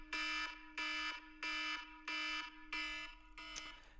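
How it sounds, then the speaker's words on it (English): An iPhone alarm ringtone goes off in loud, harsh repeating pulses, five evenly spaced bursts with short gaps between them, followed by a weaker, broken sixth burst. "and it sounded muffled, and it was this alarm."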